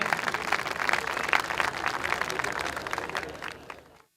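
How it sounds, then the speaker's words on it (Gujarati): A live audience at a comedy performance bursts into dense, sustained applause, close and fairly loud, before it quickly fades out at the end. "જોરદાર તાળીઓથી આપણે એમને"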